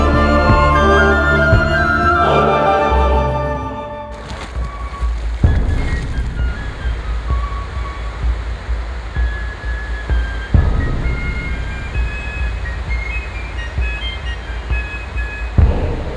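Gullfoss, Iceland's famous waterfall, roars with a steady broadband rush of falling water, loud and continuous after an opening passage of music, with occasional swells in the flow.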